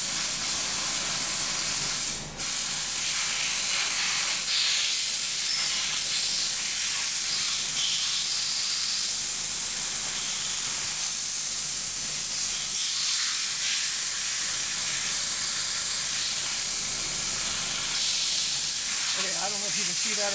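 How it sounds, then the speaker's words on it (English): Steady hiss of soapy water sprayed onto a pressurized EVAP system leak on a Volkswagen, a continuous broadband spray noise running nearly throughout with a brief dip early on, no speech. "I'm spraying it with soapy water, and it is bubbling out right there."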